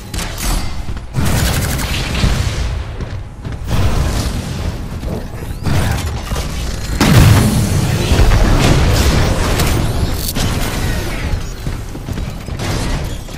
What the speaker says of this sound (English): We've got incoming enemy mortar titans. They lob rockets from a distance.